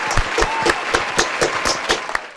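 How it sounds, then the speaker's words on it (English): Canned audience clapping track plays loud and close, a steady wash of applause with regular sharp clap accents and a few whoops, no talk. "audience clap track."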